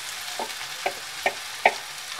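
A spoon stirs tomatoes and green chili frying in a pan, giving four or five distinct scraping taps about half a second apart over a soft, steady sizzle.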